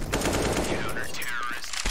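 Dense rapid gunfire in a competitive shooter esports match between Liquid and NAVI: continuous loud bursts of shots fill the clip, with faint caster talk underneath.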